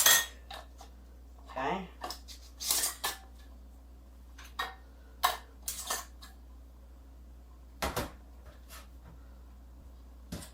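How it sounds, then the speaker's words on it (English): Metal rings are screwed finger tight onto glass canning jars of beef stew, giving scattered light clinks and scrapes of metal on glass, with a brief spoken word. "And when you put your rings on, finger tight. Don't crank them down."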